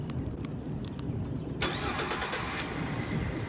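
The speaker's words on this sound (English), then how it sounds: "First, let me start my truck up." A Ford F-250 King Ranch pickup truck engine cranks and catches after a moment of low background rumble, then settles into a steady mid-pitched idle nearby.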